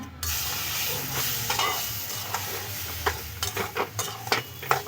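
Semolina and milk are stirred in a pan over a low flame, giving a soft, steady bubbling hiss with gentle scraping strokes that grow more frequent toward the end.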